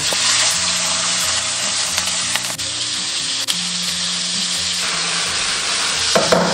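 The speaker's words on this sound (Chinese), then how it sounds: "接着下入黑虎虾，中小火慢煎。" Black tiger prawns pan-fry in oil over medium-low heat, giving a loud, steady close sizzle with no talking.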